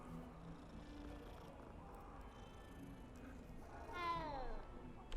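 A cat in the video game Hogwarts Legacy gives one faint, drawn-out meow partway through, heard over steady in-game ambience and music.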